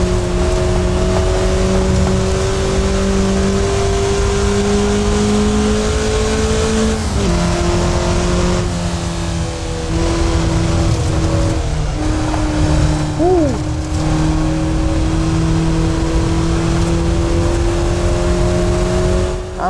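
A car lapping the Bridgehampton Race Circuit, its engine droning loud and steady with rising and falling pitch as it shifts and accelerates through corners, wind and road noise constant throughout.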